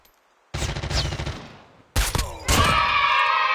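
Gunfire in the Call of Duty Mobile game: a loud burst of rapid automatic shots, a pause, then more close bursts and a sharp blast trailing into a ringing, rumbling tail.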